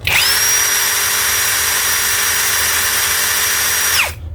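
A 21V cordless drill whirs at a steady high pitch for about four seconds, loud and close, then winds down to a stop.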